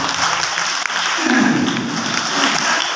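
An audience at a motivational talk breaks into dense, continuous applause, loud and close, filling the moment without any voice over it.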